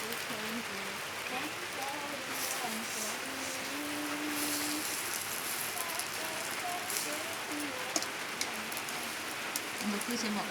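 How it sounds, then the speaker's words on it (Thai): Steady rain falls on a surface in a dense, even hiss that runs the whole time, with a voice and faint tonal sounds drifting over it. "ฝนตก"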